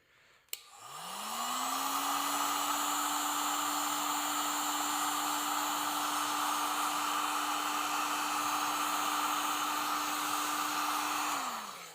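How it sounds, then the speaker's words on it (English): A heat gun blowing to shrink heat-shrink tubing for a hat light modification: a click, then a loud steady whooshing roar with a constant hum that runs about ten seconds and cuts off. "Get my heat gun here."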